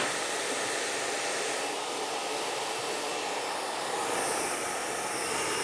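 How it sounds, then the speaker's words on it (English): A blow dryer roars continuously at close range, drying a client's freshly cut hair after a trimmer fade haircut, a steady broadband rushing air sound with slight shifts in tone as it moves. "I'm using my wind and my blow dryer to be my brush."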